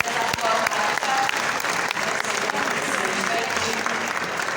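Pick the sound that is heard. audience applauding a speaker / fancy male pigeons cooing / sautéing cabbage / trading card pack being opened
audience applauding a speaker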